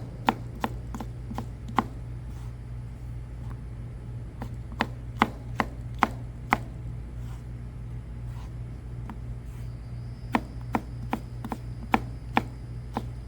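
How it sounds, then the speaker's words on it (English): A knife julienne-cuts a pepper on a board in sharp, quick taps, some in rapid runs and some spaced, over a low steady hum. "Julienne this pepper."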